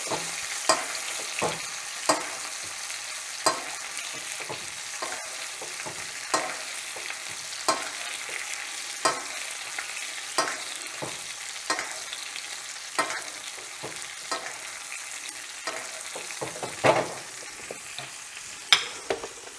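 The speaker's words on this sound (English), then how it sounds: "You want to be sure to flip the steak and hit the other side as well with the butter." Butter-basted steak sizzles steadily in a hot pan while a spoon strikes and scrapes the pan in a regular rhythm, roughly every second, close and fairly quiet, with no talking.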